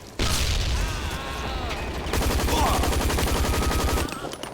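Rapid automatic gunfire rattles loudly in the shooter game Hazard Ops, a dense, continuous burst that grows heavier midway through with fast repeating shots and ends abruptly, with no voices over it.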